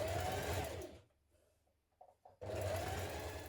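A sewing machine stitches a 1.5 cm double-fold hem on a spring blouse, a close steady motor whir that stops for over a second with a few soft clicks before stitching resumes.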